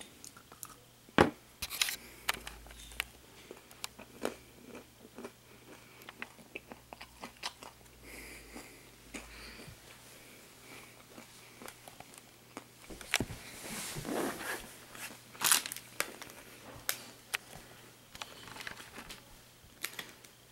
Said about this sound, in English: Okay, looks like a cashew bar. Let's eat it.